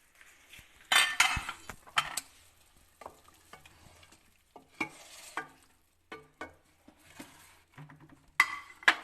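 Achar gosht being dished out of a pot with a metal spoon: a series of scraping clinks and stirring knocks, irregular and close, with quiet gaps between them and no talk.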